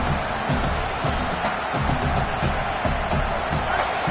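A packed stadium crowd roars and cheers steadily throughout an LSU vs Clemson college football game, a dense, continuous wall of noise with a commentator's voice running faintly beneath.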